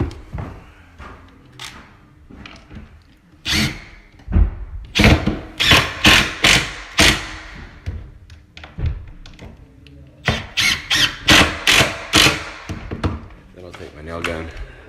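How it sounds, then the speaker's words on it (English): A drill drives Kreg jig pocket screws into a wooden stair riser to pull it against the tread, giving several short, close bursts of whirring and knocking, with a pause between two clusters of sharp impacts. "put a couple of screws in a Craig jig screw"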